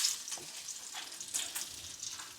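Cumin and mustard seeds spluttering in hot tempering oil, a steady bright crackle with sharper pops scattered throughout, close and fairly loud, no voices.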